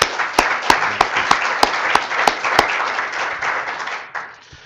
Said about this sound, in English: So everybody give Jen a round of applause.